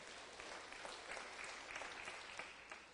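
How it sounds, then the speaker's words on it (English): A congregation claps, soft and distant, in a steady patter of many hands that fades near the end. "You can certainly clap for that update."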